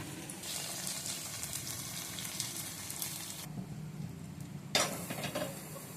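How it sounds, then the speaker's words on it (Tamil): Steady sizzling of paneer frying on a hot tawa, a continuous crackling hiss with a brief louder burst near the end; no voices. "தவாவில் பன்னீரை பொரிச்சிக்கலாம்."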